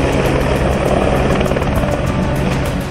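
A Dhruv military helicopter dropping army, air force and navy commandos flies close by, its rotor thumping loudly and steadily over a continuous engine roar.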